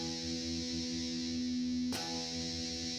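An electric guitar runs through a Boss Metal Zone distortion pedal, a thick sustained buzzing chord that rings steadily, then is cut by a sharp attack or change near the end and carries on, loud and saturated with no talking.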